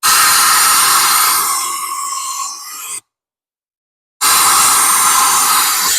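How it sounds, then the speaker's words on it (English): A compressed-air blow gun with its nozzle pushed deep into an engine cylinder roars with a loud, steady hiss, cuts off for about a second, then blasts again. The cylinder sits in a Ford engine that ejected its spark plug. "We're going to put it down as far as we can into that cylinder, and then we're going to just let it blow."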